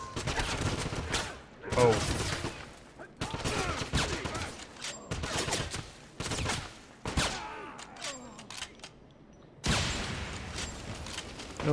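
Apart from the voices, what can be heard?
gunfire in the video game Wolfenstein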